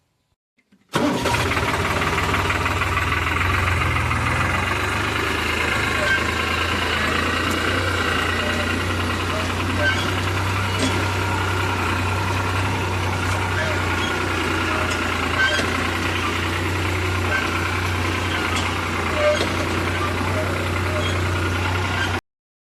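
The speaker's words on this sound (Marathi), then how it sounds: "ट्रॅक्टर घेऊन आपण निघालोय रोटरायला." A tractor towing a rotavator starts up abruptly and then runs steadily with a loud, close, low engine drone that continues unbroken throughout.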